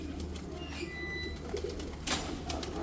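Soft, low cooing from Salara Teddy rain pigeons carries through a short, fairly close stretch with a faint chirp and brief rustle, and no talking.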